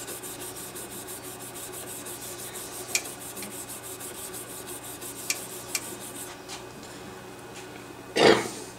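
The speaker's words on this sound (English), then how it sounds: "we'll sand it long ways to make sure that all the grain is smooth all the way around the pin" Sandpaper rubs lengthwise along a turned olive wood pen blank in a soft, continuous scratching, with a few sharp ticks and a louder scrape near the end.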